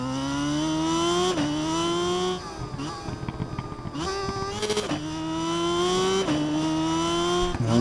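Motorcycle engine in the racing game RIDE 5, loud and close, revving high then dropping pitch on repeated downshifts, with bursts of rising throttle between gear changes and a brief rough stretch mid-run.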